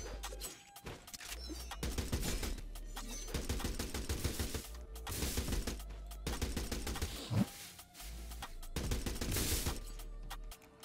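Gunfire from a Roblox fighting game, Roblox Encounters: repeated bursts of rapid shots in several clusters across the stretch, fairly loud and continuous, with brief pauses between volleys and no talk over them.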